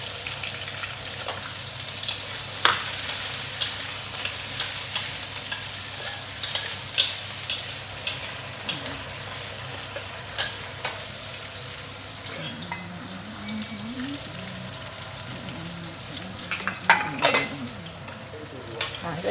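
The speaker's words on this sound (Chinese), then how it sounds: "我炒一下马蹄来。" Water chestnuts and bell peppers stir-fried in a wok with garlic and a little lard, sizzling steadily while a utensil stirs and scrapes, with sharp clicks and clatters of metal against the pan. No one speaks.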